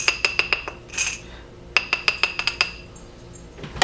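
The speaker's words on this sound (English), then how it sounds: "put some flour on this glass jar here." Glass clinks and taps as a floured glass jar is handled on a hard surface while making pizza dough, in quick clusters of bright knocks separated by brief pauses.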